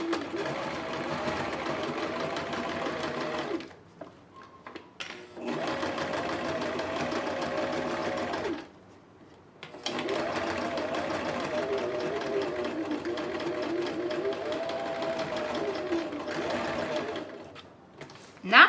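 Sewing machine stitching synthetic material for a woven basket, running in long steady mechanical buzzing runs with two brief pauses between them, close and loud with no talking.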